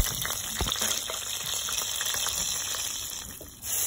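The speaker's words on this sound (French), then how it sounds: "Je vais venir les faire passer à l'huile rapidement pour accompagner mes ablos." Marinated crabs frying briskly in hot oil, a dense steady sizzle and bubbling that stays loud and close throughout, with a few soft clinks and a brief dip near the end.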